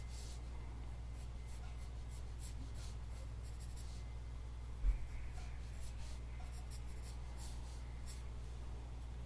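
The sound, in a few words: pencil sketching an eye on paper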